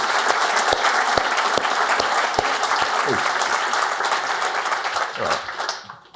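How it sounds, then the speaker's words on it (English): A conference audience at Laracon AU 2023 applauds the event sponsors, a dense, steady wash of many hands clapping with sharp individual claps standing out, fading away over the last second. "Big applause for Figured and all of them."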